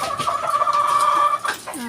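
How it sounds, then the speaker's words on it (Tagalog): Chickens clucking close by, a steady run of clucks with a brief louder squawk near the end. "Ayan po ang kanyang mga manok."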